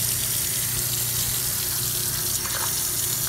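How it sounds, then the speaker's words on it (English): Water is poured over stones to rinse off acid, making a steady, close splashing and trickling wash that runs without a break and without speech. "So to rinse it off, I'm just gonna pour water"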